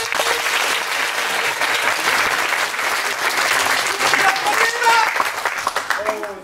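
A theatre audience at a stage show in Mainz gives loud, sustained applause, steady dense clapping with voices talking underneath.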